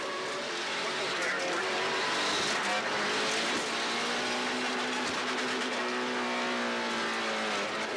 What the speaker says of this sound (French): Sur le limitateur de révolution pour Latreille là-dessus